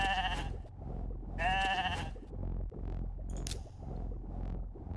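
In a video game arena battle, a sheep bleats twice, loud and close, with quieter game effects around the calls.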